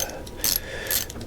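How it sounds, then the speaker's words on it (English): A ratchet tightens small 10mm bolts on a Kawasaki GTR1000 during cooling system work, giving two short clicking bursts close by against a quiet background. "let's not forget to tighten our little 10mm"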